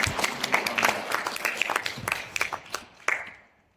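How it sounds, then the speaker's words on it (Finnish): Audience applause at a Finnish pensioners' gathering: a room of scattered, fairly close hand claps that keeps going for several seconds, then thins and dies away, with no voices over it. "Aplodit tällekin, se oli lyhyt."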